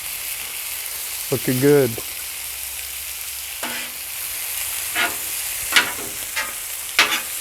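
Chicken and vegetables sizzle on a flat-top griddle over burners, a steady close frying hiss with sharp scraping and stirring clicks of a spatula; someone speaks briefly near the start.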